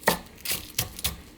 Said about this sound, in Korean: 이렇게 얄팡얄팡하게 썰어주세요